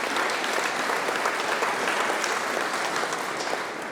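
A large audience at a museum talk and presentation applauds continuously, a thick, even roar of clapping that stays loud throughout.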